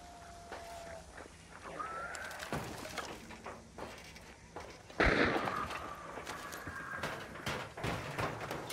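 A gunshot in the video game Hunt: Showdown booms loudly midway through, among footsteps and scattered softer cracks and thumps in a busy game soundscape.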